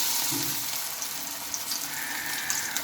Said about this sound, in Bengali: গ্যাসের একটু কমিয়ে তোমরা ভাজার চেষ্টা করবে